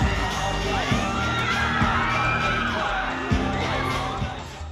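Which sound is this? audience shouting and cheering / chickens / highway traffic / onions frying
audience shouting and cheering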